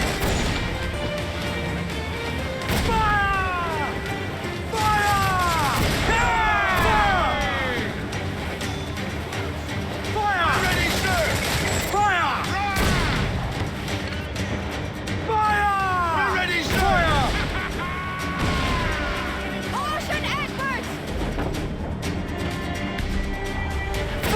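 Naval cannon fire rings out during a sea battle in Assassin's Creed IV Black Flag, repeated crashing blasts in bursts amid crew voices shouting and a busy background of battle noise.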